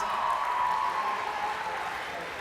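Audience applause and crowd noise at a school sports banquet, a steady, dense wash of clapping that fades slightly toward the end.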